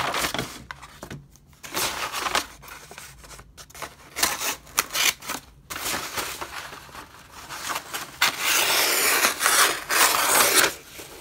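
Scissors cut paper for a junk journal cover, giving repeated crisp snips and rasping, rustling strokes at close range, irregular and continuous throughout, with no talking.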